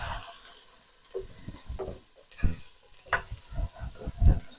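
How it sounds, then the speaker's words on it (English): Rice for an oven-baked chicken risotto is stirred in a pan, producing soft irregular scraping and grainy shuffling strokes with light knocks of the spoon, close and moderately quiet. "Just give it a bit of a stir to coat it."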